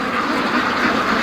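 Muscovy ducks make dense, continuous, raspy calls close by on a cold day, with several birds overlapping in a rough, steady chorus.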